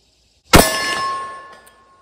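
A single revolver round from a Taurus Model 66 rings off a steel silhouette target at an outdoor range: one sharp clang followed by a long, fading metallic ring.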